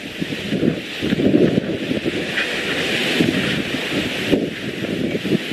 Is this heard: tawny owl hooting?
no